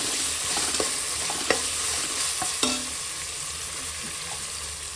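Tomatoes sauté in a pan with a steady sizzle, broken by several sharp clinks and scrapes as a spoon stirs them.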